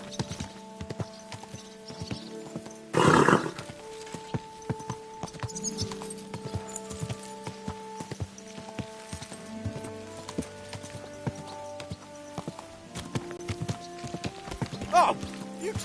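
Hooves of a ridden horse in the video game Kingdom Come: Deliverance II clip-clop steadily at a walking pace, close by, over a low droning musical background with a brief louder burst near the start.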